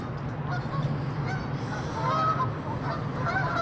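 Geese honk repeatedly outdoors near a moored battleship, a cluster of overlapping nasal calls at moderate distance against steady outdoor noise.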